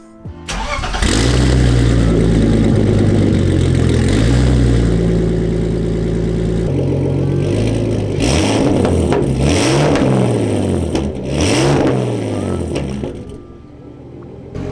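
A drift-built BMW E46 cranks and fires up, then revs hard several times, the engine note rising and falling in strong repeated sweeps, loud and close with no talk.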